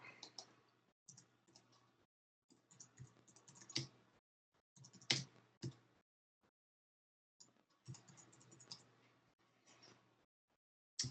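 Bursts of keyboard typing, quiet and close, come in uneven clusters of rapid key clicks separated by short pauses, with no talking.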